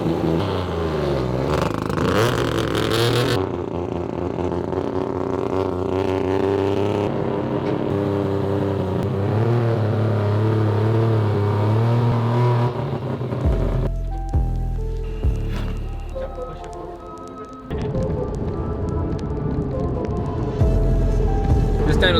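A three-rotor rotary engine on a dyno revs repeatedly, its deep roar rising and falling in loud surges, with brief lulls and faint voices in the background.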